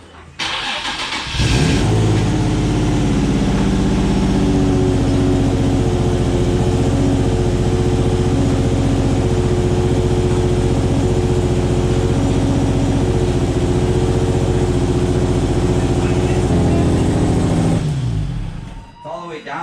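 A boosted Nissan 350Z fires up for the first time after a short crank, then runs at a loud, steady idle with a rough, throbbing drone, close by, before cutting off near the end; voices can be heard around it.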